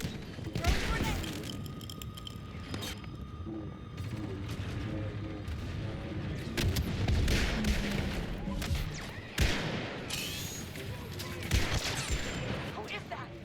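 In a shooter video game, bursts of gunfire and thudding impacts including a grenade blast crackle loudly and irregularly, with brief voices shouting in between.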